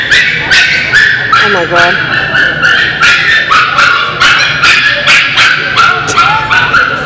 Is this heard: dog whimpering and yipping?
yes